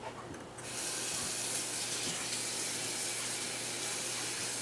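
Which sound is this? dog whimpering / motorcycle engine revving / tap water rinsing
tap water rinsing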